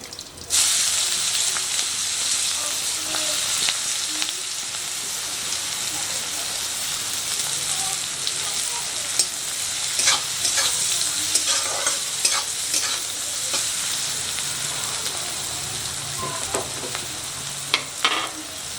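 Finely chopped onion fries in butter and oil for anda ghotala: a loud hiss of sizzling starts abruptly, then carries on steadily with occasional clicks and scrapes of stirring, close up with no talk.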